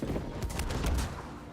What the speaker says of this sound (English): That cannon hurts like fucking hell.